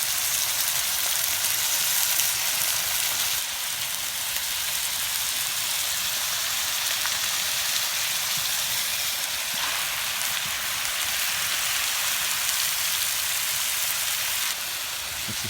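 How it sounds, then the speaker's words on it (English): A constant, dense sizzle crackles steadily from start to finish as chicken fries hard in a hot pan at a camp, close and uninterrupted. "Just frying off the chicken now."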